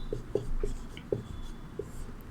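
Chalk tapping and scratching across a classroom board in short quick strokes, a handful of distinct marks over a faint room hiss.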